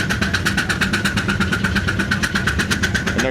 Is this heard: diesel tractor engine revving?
yes